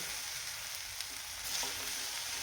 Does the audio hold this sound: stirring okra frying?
yes